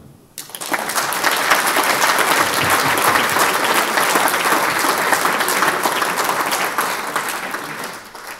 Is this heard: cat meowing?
no